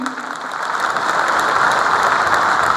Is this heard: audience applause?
yes